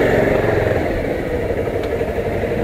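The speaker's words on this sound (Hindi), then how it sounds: "थोड़ा बाइक को भी पार्क करना पड़ेगा।" A motorcycle engine idles steadily at close range during a ride through Gangtok, Sikkim, a continuous low rumble with no clear revving, alone without talk.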